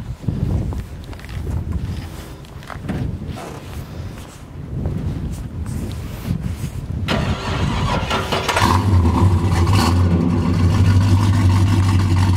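A 1966 Chevelle convertible resto-mod with a 396/375hp V8 fires up and settles into a loud, steady rumble, with scattered shuffling and a few voices in the background before it catches.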